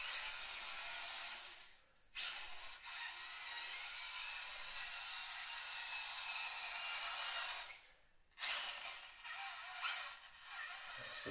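A 1/24 scale FMS Max Smashers RC crawler with unlocked axles struggling over an obstacle, its small electric motor giving a steady high whine that briefly drops out twice, close and faint.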